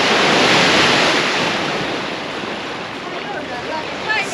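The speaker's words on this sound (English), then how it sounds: "The waves crashing down." Ocean waves crash and wash steadily against a small pier in San Juan, a loud broadband roar with wind buffeting the microphone.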